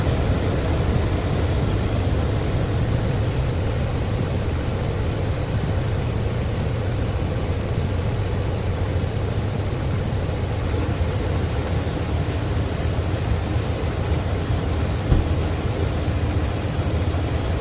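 Car engine idling steadily while coolant is being bled with the heater on, a continuous low rumbling hum at even loudness throughout, with no talk over it.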